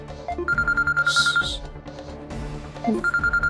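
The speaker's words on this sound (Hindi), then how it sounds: "फोन आ रहा है उसका" Telephone ringing in a domestic drama scene: a repeating electronic ring tone in steady bursts, close and fairly loud, with background music and voices underneath.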